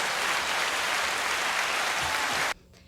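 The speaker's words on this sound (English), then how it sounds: "So that alone deserves a round of applause." A comedy talk-show audience applauds in a steady wash of clapping for about two and a half seconds, then it cuts off abruptly into near silence.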